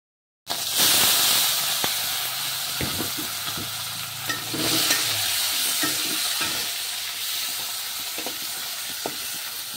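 Dried fish and tomato chutney frying in a pan, a continuous close hiss and sizzle broken by light clinks and scrapes of stirring, with no voices.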